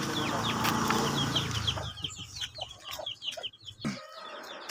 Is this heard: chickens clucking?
yes